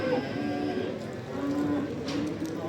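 Calves mooing at the Barda cattle market, low drawn-out bovine calls over a dense, murmuring market background, fairly close.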